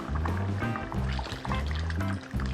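Tamarind water pours into a simmering ivy gourd (kovakkai) curry, a close gurgling splash of liquid with bubbly glugs that comes in uneven bursts over a few seconds.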